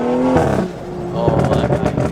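A BMW E36 M3 engine running loud, a deep harmonic drone that drops then surges again as it revs, heard close from inside the car with people talking over it.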